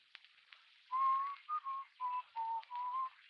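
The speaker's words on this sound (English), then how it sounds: "That noise. I'm whistling." A person whistles a short, simple tune of several sustained notes, close by and clear, with faint clicking noises in the background.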